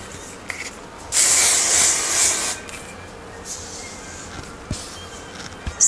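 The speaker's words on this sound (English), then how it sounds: "And smoothing it as well with the hairspray." Hairspray sprays onto hair in one sustained, fairly loud hissing burst of about a second and a half, with faint handling sounds before and after.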